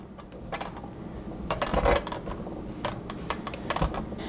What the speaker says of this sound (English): All right, so give that all a mix.